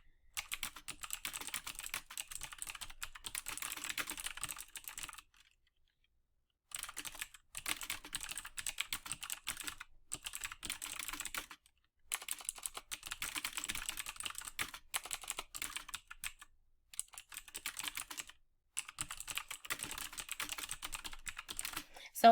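Someone types on a computer keyboard in a rapid, fairly quiet patter of key clicks that runs in long stretches broken by a few brief pauses.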